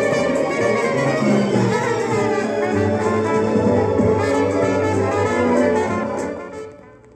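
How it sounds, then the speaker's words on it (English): Symphonic music and jazz from a stereo test record play at once through a Denon DP-7F turntable, two overlapping programs blending into a dense, steady musical wash that fades out at the end. "two separate programs of music which sound like this when played together at the same time by the same stylus in the same groove"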